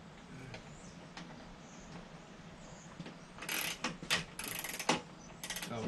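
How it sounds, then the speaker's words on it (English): A ratchet wrench snugs down a bolt on a Kuryakyn plug-in rider backrest for a 2022 Harley-Davidson Street Glide Special, a run of close, sharp metallic clicking bursts in the second half after a quieter stretch. "put the wrench back in and reverse the ratchet"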